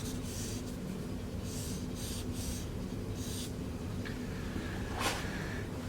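Graphite pencil shading over paper to block in values and darken the sides of a one-point perspective drawing, a steady soft scratchy rubbing in repeated strokes, close and continuous.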